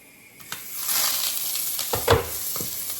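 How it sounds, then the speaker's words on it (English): Steak sears in a hot pan with a steady close sizzle and hiss, swelling in intensity with a few sharp crackles and spits along the way. "I'm going to get this steak seared off, guys,"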